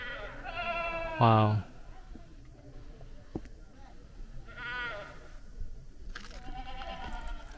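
A goat on a rocky hiking trail near Petra bleats several times, wavering cries at moderate distance with quiet gaps between them, amid outdoor ambience and a brief spoken exclamation.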